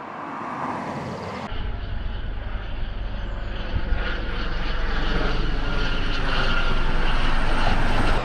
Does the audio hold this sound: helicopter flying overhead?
yes